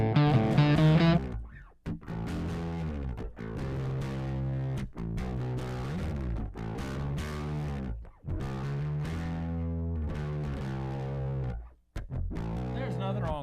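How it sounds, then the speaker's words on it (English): A bass guitar played through a Hot Head distortion pedal gives loud, fuzzy, sustained notes in a continuous riff with brief gaps between phrases. "There is absolutely nothing wrong with that hot head distortion pedal on bass guitar."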